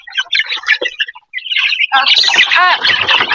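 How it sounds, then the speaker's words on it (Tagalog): Chicken chicks chirping busily at feeding time, dense high peeping in quick overlapping bursts that briefly pause and then swell louder and closer. "pagkain na naman po ito sa mga sisiw guys. So, pakakainin ko na naman po sila guys"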